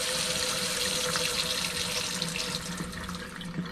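Hot water gushing steadily from a tap during electric water heater maintenance, a loud continuous hissing rush that eases slightly near the end, with no voices.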